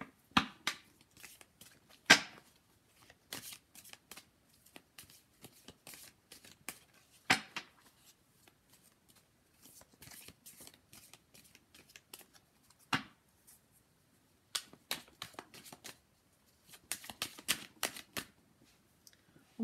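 Oracle cards being shuffled by hand, giving quiet, scattered riffles and flicks with irregular bursts and pauses, close and soft against a silent background.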